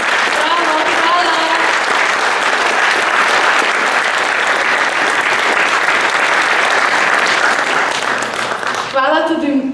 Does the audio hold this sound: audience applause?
yes